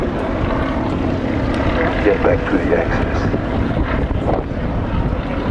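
A propeller aircraft drones steadily overhead at the Duxford Flying Legends airshow while someone speaks over the engine noise.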